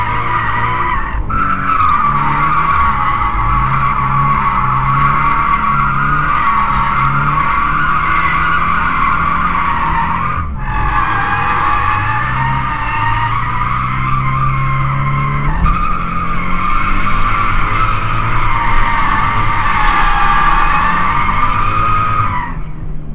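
Toyota 86 drifting with its rear tires sliding, a loud sustained skid and squeal lasting throughout with steady engine drone, briefly dipping twice as the slide is caught and restarted, with no talk over it.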